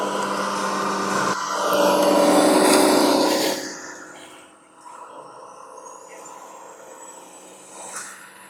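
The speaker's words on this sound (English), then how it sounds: "It's just traffic, ambient traffic." Ambient street traffic: a vehicle's roar swells loudly and then fades, leaving a quieter, steady hum of distant traffic with a brief rise near the end.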